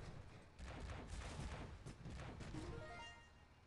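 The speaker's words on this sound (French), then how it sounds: "ils sont stylés les coups de canon" Tank cannons fire in the mobile multiplayer game Pico Tanks, a dense, loud stream of overlapping blasts and booms over several seconds with no pause.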